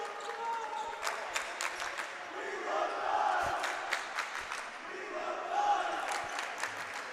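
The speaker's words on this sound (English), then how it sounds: "All right, Dice gets a round of applause" A crowd at a boys' high school basketball game claps and cheers at moderate distance, with scattered sharp claps and a bouncing ball echoing in a large gym.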